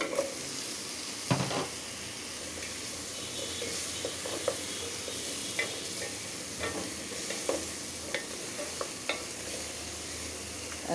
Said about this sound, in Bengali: এখন মিষ্টি কুমড়োটা দিয়ে দিব।